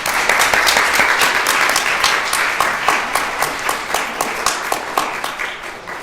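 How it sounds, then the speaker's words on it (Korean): A congregation at a church anniversary thanksgiving service claps vigorously, sustained applause with distinct individual claps that gradually ease off. "여러분, 이 순간 힘차게 박수로 격려해 주세요."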